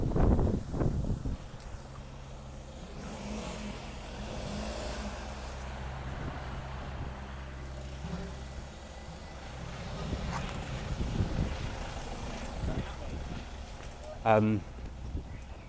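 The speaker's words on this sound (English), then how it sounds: "there was just some traffic there that I had to focus on" Road traffic rolls past with low engine rumbles and tire noise from cars and trucks, swelling and fading as vehicles go by, with a brief louder pass near the end.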